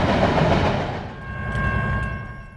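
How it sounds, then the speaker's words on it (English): A freight train with multiple locomotives passing on a CSX line near Wauhatchie, Tennessee, a loud close rumble and roar that eases after a second, leaving steady wheel noise and a thin, sustained metallic squeal. "I never got the train number on this guy, so its origin and destination is unknown"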